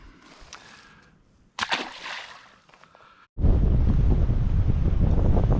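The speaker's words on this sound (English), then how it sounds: "This wind was blowing that way right into the ramp, and when I get out here, now it's blowing this way right into the cove." Strong wind gusts buffet the microphone outdoors at a lake while kayak bass fishing in March, quieter gusts first, then a loud, continuous roaring blast for the last couple of seconds.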